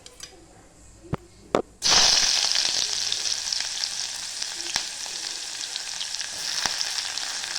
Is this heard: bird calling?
no